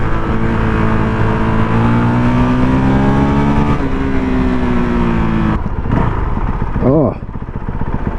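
A Honda CRF450 dual-sport motorcycle engine revving on a ride, a loud throaty drone that climbs in pitch and then dips through quick throttle blips, very close and continuous with talking over it.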